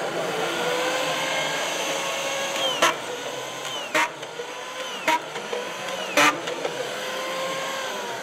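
A Muro auto feed screw driving system runs steadily with a continuous motor whine, punctuated by four sharp, brief bursts as screws are driven in at roughly one-second intervals.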